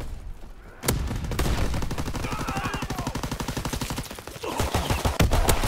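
Rapid automatic gunfire from Call of Duty WWII gameplay rattles in a dense, loud, steady stream after a brief quiet start, with a few heavier isolated shots near the end.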